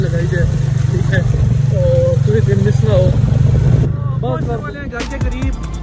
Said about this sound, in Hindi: एक हाथ से मैं चला रहा हूँ बाइक बड़ी मुश्किल से